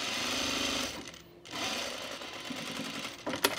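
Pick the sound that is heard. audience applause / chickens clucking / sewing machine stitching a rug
sewing machine stitching a rug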